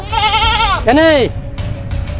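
A goat bleats loudly up close, two wavering calls back to back, then only a low background murmur remains.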